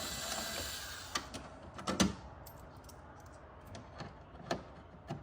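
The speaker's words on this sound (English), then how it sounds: "watch me take a bunch of screws out" Torx T15 screws being backed out of a rear strut support on a Corvette C8: scattered small clicks and ratcheting taps close by, grouped in short uneven bursts over a quiet room background.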